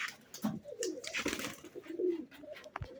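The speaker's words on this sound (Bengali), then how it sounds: "ওই যে সবাই এখানে সেখানে বসে আছে, সবগুলো কবুতর আসলে নামছে না।" Pigeons in a loft coo softly and repeatedly, a low, fairly quiet murmur with overlapping calls and no talk.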